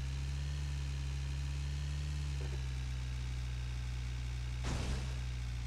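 A car engine idles in the game PUBG Mobile played on PC, a steady low mechanical hum and vibration throughout, with a brief soft thump near the end and no talking.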